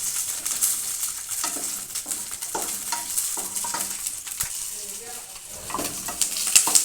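Green chillies spluttering and crackling as they fry in hot oil for a chutney, a steady close sizzle broken by sharp irregular pops and a few stirring scrapes, with no talking.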